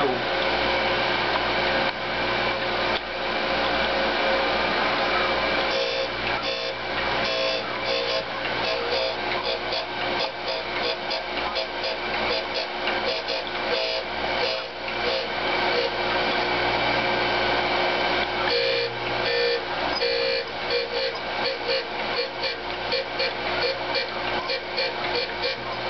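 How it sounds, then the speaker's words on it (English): A surface grinder grinding a metal washer in a machine shop, a steady loud whirring hum with dense gritty grinding noise that continues without pause, swelling slightly in the later passes. "And so we're surface grinding."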